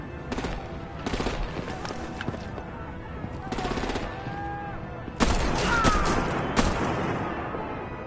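Bursts of automatic gunfire and scattered shots ring out during a chaotic fight in the Batman: The Telltale Series video game, some rapid volleys loud and close, with voices shouting over the shooting.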